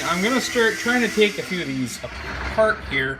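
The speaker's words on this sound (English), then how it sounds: "you're going to have to excuse the noise because my grandmother-in-law is vacuuming" A household vacuum cleaner runs steadily in the background, a constant whine and hiss beneath someone talking close to the mic throughout.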